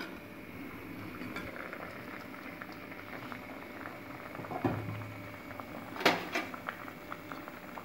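Orange peel simmers in a covered pot, a faint steady bubbling with a couple of soft knocks and clinks near the end.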